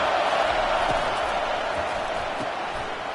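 A stadium crowd roars steadily at an FSU vs Florida college football game, a dense, continuous wash of cheering and noise that fills the space at high level without breaks.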